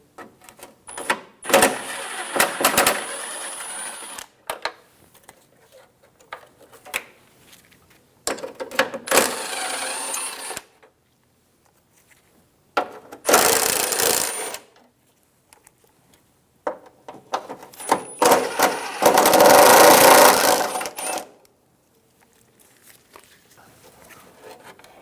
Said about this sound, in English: Using a 10mm socket, remove the 4 bolts for the headlight assembly.